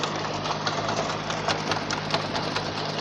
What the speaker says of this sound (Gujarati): એ ભાઈ ટાયર ફેરવા વગર એમને ચલાવે છે રોટાવેટર